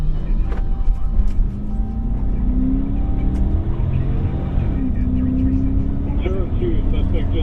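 A stolen state police patrol car speeds away, its engine revving and roaring close by with rising and falling pitch over a steady low rumble, while other sounds mix in underneath.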